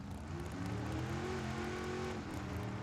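Cars at a Tucson Dragway drag race, engines revving with rising and falling tones, loud and steady, close to the track.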